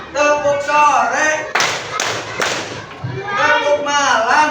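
Rhythmic clapping bursts from a classroom clapping game, a few quick claps in the middle of the clip between stretches of children or teacher voices.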